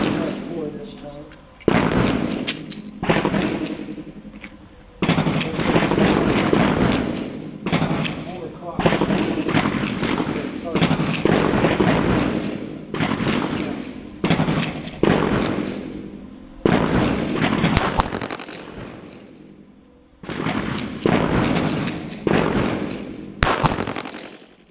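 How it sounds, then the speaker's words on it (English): A .380 pistol fires a series of sharp shots at irregular intervals, around a dozen reports each with a short ringing decay, loud and close. "This gun definitely shoots high and to the left."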